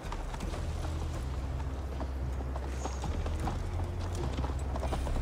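A horse galloping in Assassin's Creed Valhalla, a steady rhythmic clatter of hooves over a low continuous rumble throughout, with no speech.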